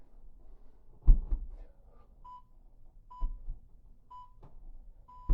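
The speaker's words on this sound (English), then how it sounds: "You'll hear 3 beeps for the last 3 seconds." A workout interval timer sounds its countdown with three short, evenly spaced electronic beeps about a second apart, clear and moderately loud, among faint thumps of movement and no talking.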